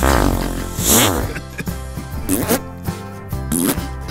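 A cartoonish fart sound effect, several buzzy, tonal sputters and squeaks in quick succession, loud and up close, with short pauses between the blasts.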